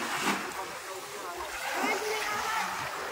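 Strong waves splash and slosh against the shore in Mindoro, a rushing watery wash with bursts of spray, while a person's voice is faintly present beneath the surf.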